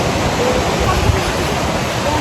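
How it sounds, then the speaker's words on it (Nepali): A stream rushes near a jungle waterfall on a hike, giving a steady, loud broadband roar of flowing water that fills the whole short stretch without a break. "खोलाको साउन्ड चाहिँ सही आइरहेछ"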